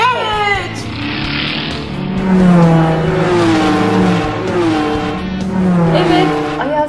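Toy cars race one another during children's play as voices loudly imitate revving engines and screeching tires, with wavering vroom-like tones that rise and fall steadily throughout.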